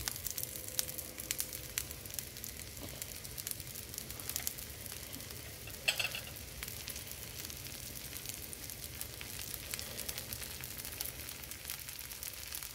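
Dosa batter of mixed pulses and millets sizzles steadily in oil on a hot pan over medium heat, a continuous close crackle with one brief louder pop partway through.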